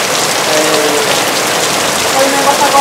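Heavy rain falls in a steady, loud hiss of dense patter on surfaces near a waterfall amid wind, a constant downpour with faint tonal sounds mixed in.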